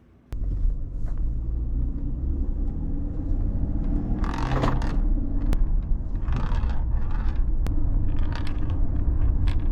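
A 2010 car on a short test drive gives a steady low engine and road rumble throughout, with occasional rattles and clicks from inside the cabin and no talking.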